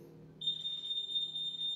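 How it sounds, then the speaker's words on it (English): A SHIELD OMEGA fire alarm panel starts a steady, high-pitched electronic beep tone that holds continuously after a moment of quiet, moderately loud and close. "now it is back to service, and you will hear an alarm"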